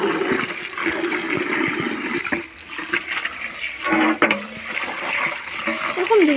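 Fish, one apparently carrying roe, is washed by hand in water, giving a steady, close wash of running and sloshing water with splashes and clatter, while voices talk faintly underneath.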